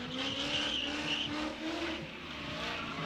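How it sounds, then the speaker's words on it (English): Drift car at an outdoor drift and stunt show, its engine roaring loud and close with a sustained squeal of tires sliding across pavement, holding steady for several seconds with no talk over it. "I love the sound of that car."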